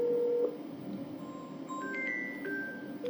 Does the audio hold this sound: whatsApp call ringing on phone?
yes